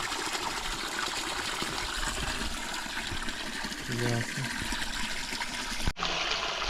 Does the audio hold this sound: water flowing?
yes